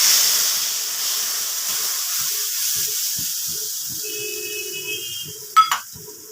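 Masala spice paste of salt, turmeric, chilli and cumin powders frying in a pan for shol fish kalia gives a close hiss that fades slowly, with a brief metallic clink near the end.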